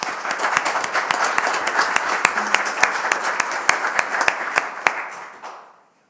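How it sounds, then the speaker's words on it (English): Audience at a city planning commission meeting applauds, a steady roomful of clapping with distinct individual claps that holds for about five seconds and then tapers off. "can we give him a round of applause?"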